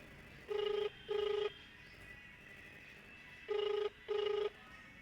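An unanswered phone call rings in two pairs of electronic trills, each burst about half a second long, with a quiet pause between the pairs; the tone is clear and moderately loud over faint background hiss.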